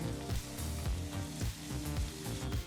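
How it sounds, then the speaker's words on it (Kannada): Chopped onions frying in oil and butter over a medium flame for a paneer gravy, a steady loud sizzle with rhythmic scraping strokes as they are stirred constantly. "ಈರುಳ್ಳಿನ ಚೆನ್ನಾಗಿ ಎಣ್ಣೆ ಮತ್ತು ಬೆಣ್ಣೆನಲ್ಲಿ ಫ್ರೈ ಮಾಡ್ಕೋಬೇಕಾಗತ್ತೆ"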